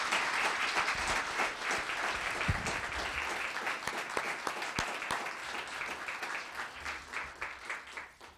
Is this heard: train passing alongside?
no